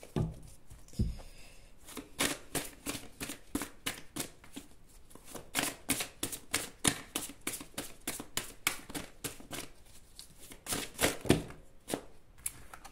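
Tarot cards are shuffled and riffled by hand close up, a fast series of crisp flicks and soft slaps that comes in uneven bursts. It runs alone at moderate loudness with no talking.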